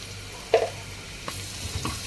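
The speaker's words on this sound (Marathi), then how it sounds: "व्यवस्थित परतून घेऊया आपण." Onions with turmeric sauté in a pan for a Marathi black-masala mutton dish, with a soft continuous sizzle broken by a few close scraping stirs of a spoon.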